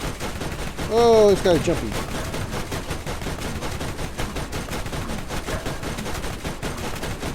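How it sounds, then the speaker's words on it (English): Weapons fire from a vehicle in the video game Borderlands as a rapid, continuous stream of gunshots. A player briefly speaks over the opening barrage. "I'm going to unload my weapons on him from the vehicle"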